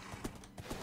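Horse hooves clip-clop in the Minecraft video game, a few quick, soft thuds in an uneven gait lasting under a second, heard alone without talk.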